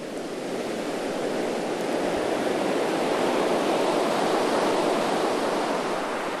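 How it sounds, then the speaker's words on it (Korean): Fierce winter sea waves surging in a dense, unbroken roar of surf, loud and close, rising slightly in force toward the end with no voices. "매서운 파도가 이어지는 겨울바다"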